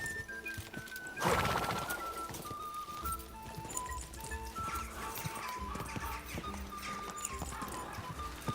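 Horse hooves clip-clop at a gallop in Kingdom Come Deliverance 2, steady and close under game music, with a loud burst of crashing about a second in and a whinny near it.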